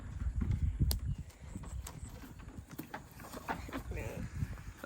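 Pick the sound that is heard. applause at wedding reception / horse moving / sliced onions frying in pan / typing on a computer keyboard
horse moving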